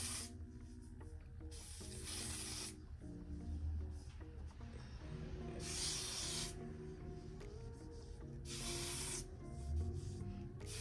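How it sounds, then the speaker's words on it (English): Several short hissing bursts from an aerosol can of adhesive hair spray, close by, repeated at intervals over a low background hum. "This is some adhesive hold. And I just spray it on my hairline."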